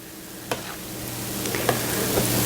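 A spoon stirs cornbread dressing in a big pot, with a few soft scraping strokes over a faint sizzle, close and quiet.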